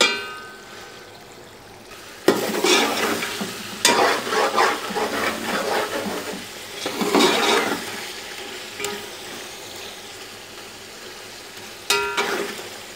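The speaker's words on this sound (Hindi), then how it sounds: "इसको खुला पकाएंगे हाई फ्लेम पे" Masala frying uncovered on a high flame while being stirred, heard as bursts of sizzling and scraping in several strokes, loud and close, with quieter gaps between.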